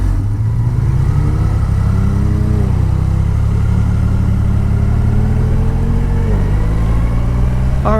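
A Triumph Rocket 3 motorcycle engine drones loud and close during a ride, a deep continuous rumble whose pitch rises and falls gently through gear changes and throttle shifts, without speech.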